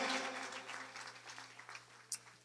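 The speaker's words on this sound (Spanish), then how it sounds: "¿Alguien puede darle un fuerte aplauso al Señor en esta mañana?" A church congregation claps together in a soft, fairly distant patter that thins out and fades, with one sharper clap standing out near the end.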